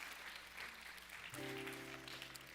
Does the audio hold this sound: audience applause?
yes